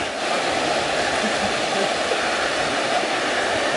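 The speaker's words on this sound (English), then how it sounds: "there's a lovely river" A river rushing beside a footpath in the Alps near a hotel, a steady, loud broadband wash of flowing water that holds constant throughout with no talking.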